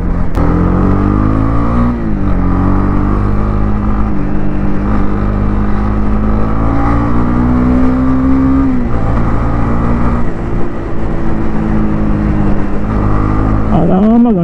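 A 2024 Honda CB300R motorcycle is ridden close to the microphone, its loud engine droning steadily with pitch rising and falling as the throttle changes.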